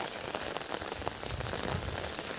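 Steady rain patters across a surface outdoors, a dense continuous hiss of drops that stays fairly even and close throughout, with no voices.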